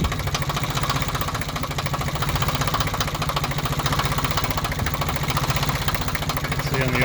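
A Ford 1910 compact tractor engine idles steadily after startup, a close, loud, even diesel chug with a rhythmic knock running unbroken from start to finish.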